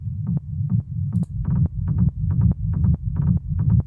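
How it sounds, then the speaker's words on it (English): A 909-style tom drum programmed in Ableton for an industrial techno groove: deep, pitched booming hits in a steady, driving pattern, each with a short rattling top, repeating loud and close with no voices. "this one which is more kind of a 909 tom"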